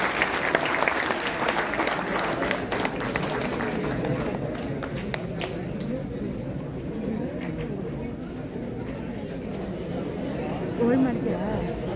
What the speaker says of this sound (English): So let us welcome him with a big round of applause.